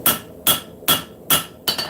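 Five evenly spaced, ringing hammer blows on a knife blade being forged in a shop, loud and close, with a steady rhythm of about two strikes per second.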